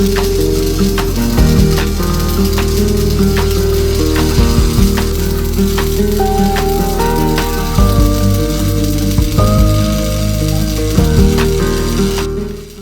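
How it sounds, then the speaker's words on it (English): Arc welding with stick rods makes a loud, continuous crackling sizzle with a steady electrical hum underneath, close and uninterrupted for over twelve seconds with no talking. "I actually find arc welding one of the most relaxing things you could do"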